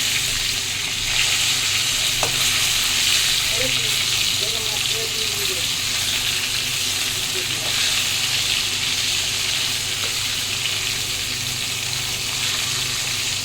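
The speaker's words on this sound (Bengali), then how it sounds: "এটা ভাজা হচ্ছে, আমি অনেকটা দূরে আছি বন্ধুরা, খুব ফাটে বলে।" Shing catfish fry in hot oil, a dense, continuous hiss with scattered sharp pops and spatters, heard from a short distance throughout.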